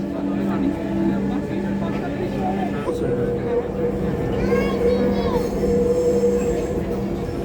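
A Dhaka metro rail train runs between stations, its steady low rumble overlaid with humming electric-motor tones that rise and sweep in pitch, while people talk nearby inside the carriage.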